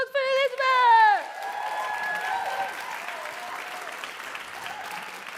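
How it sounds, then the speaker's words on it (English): Applause for a performer at an artist showcase rises after a brief voice and then holds as a steady wash of clapping from the crowd, moderately loud and even. "Another round of applause for Elizabeth."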